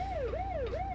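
Police car siren in the American Truck Simulator game, a loud wailing tone rising and falling twice in steady sweeps over a low engine rumble, with no voices.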